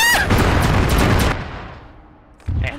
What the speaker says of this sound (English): I'm hearing a lot of gunfire over there